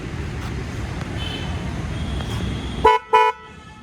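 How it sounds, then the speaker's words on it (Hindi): Two short, loud horn honks in quick succession from a 2011 Honda CBR250R motorcycle ring out near the end, over steady road and engine rumble. "ऐसा इसका हॉर्न है, काफ़ी मज़ेदार है"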